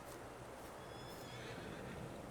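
Horse neighing in Farming Simulator 22, a faint whinny heard a few times against a steady noisy background, with no talking.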